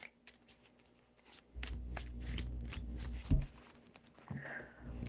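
Tarot cards shuffled by hand three times, close and dry, in bursts of papery riffling and soft slapping against a quiet room.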